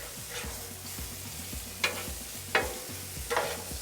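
Chicken fries in oil on a Blackstone griddle with a soft, steady sizzle, broken by a few sharp scraping and tapping clicks as a spatula turns the pieces.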